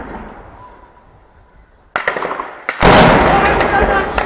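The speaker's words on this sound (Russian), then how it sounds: "Выстрел!" A gunshot fired during a militia attack on Donetsk Airport cracks out sharply after a quiet stretch, followed by a loud, sustained burst of noise and shouting voices close to the recorder.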